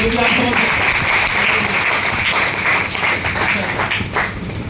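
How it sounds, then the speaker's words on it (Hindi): Audience applause at an Ayurvedic product training session, a dense steady wash of clapping held throughout at close, loud level, with voices mixed in. "बहुत बढ़िया, अपने लिए जोरदार ताली बजाओ।"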